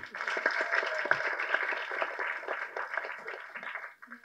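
An audience at a school event applauds the camera crews, a steady wash of clapping mixed with crowd voices that fades near the end.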